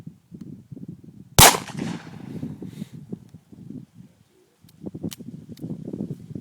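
A single loud, sharp shot from a Smith and Wesson 38/44 revolver loaded to near 44 Magnum power, up close, with a brief ringing decay before quieter outdoor rustling resumes.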